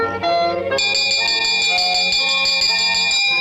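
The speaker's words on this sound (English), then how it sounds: "Will you please ring the bell to get everybody's attention?" A ship's bell rings loudly and steadily in a bright, sustained peal aboard ship, clanging on without pause and with no talk over it.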